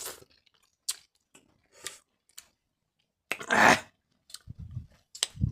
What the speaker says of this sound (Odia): ସେଥିପାଇଁ ଆମେ ଆମ୍ବ ଆଣି ଯାଇକି ଆଜି କାଟିକି ଖାଉଛୁ